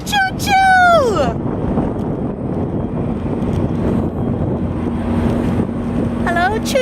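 A loud train engine rumbles steadily nearby for the whole stretch, with wind buffeting the microphone and a voice speaking briefly over the din at the start and end.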